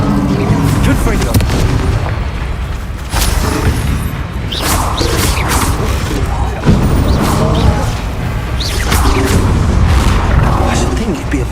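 Blasting spells in a Hogwarts Legacy duel explode in a rapid series of booming, crashing impacts with whooshes between them, loud and close, while a voice shouts incantations over the fight.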